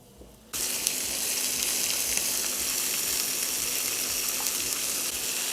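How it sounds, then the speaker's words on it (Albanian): Meat drops into about a cup and a half of hot oil in a pan and breaks into a loud, continuous sizzle that holds steady, close by, after a brief quiet start. "e tash do t'i vej t'i skuq."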